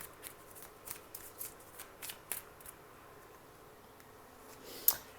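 Tarot cards are shuffled and handled in a series of soft, quick riffling bursts, close and fairly quiet, ending with a sharper single snap.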